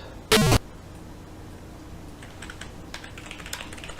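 Keys clatter on a computer keyboard while a command is typed into a text parser during a Space Quest game session, scattered light taps following one short loud burst of another sound at the start.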